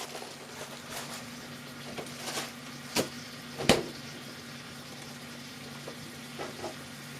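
A large batch of onions frying in a pan for a simple 1950s diner meal, a low, quiet sizzle with scattered clicks and a couple of sharper utensil knocks.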